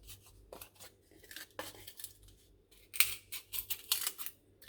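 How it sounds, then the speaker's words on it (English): Scissors cut through an old piece of styrofoam in a series of short, sharp snips and squeaks, close up and growing louder toward the end, with no talking. "So I just get my scissors and I'm just going to cut this styrofoam"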